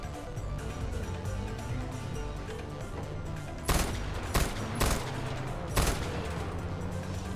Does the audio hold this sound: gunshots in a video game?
yes